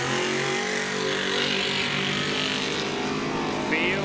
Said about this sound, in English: That's what a truck should sound like.